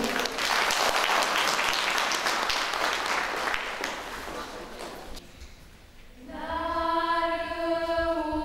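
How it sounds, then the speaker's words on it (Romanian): Audience applause at a Palm Sunday gathering in Straja, a dense, sustained burst of clapping that gradually thins out, followed by a sustained musical tone as it fades. "Haideți să-i aplaudăm și să-i ascultăm."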